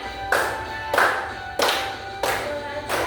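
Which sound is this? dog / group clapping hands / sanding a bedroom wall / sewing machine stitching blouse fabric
group clapping hands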